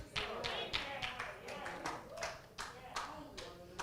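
Rhythmic clapping in a church service, steady beats close by with voices mixed in beneath them.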